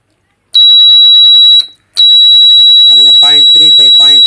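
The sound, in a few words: DIY MQ5 gas sensor smoke alarm sounding from incense smoke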